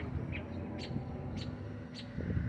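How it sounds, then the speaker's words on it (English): Small birds dive-bombing a hawk give short, sharp chirps at roughly even intervals, distant and fairly faint over a low outdoor rumble. "These other birds are attacking him."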